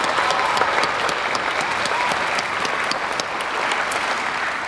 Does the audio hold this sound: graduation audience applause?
yes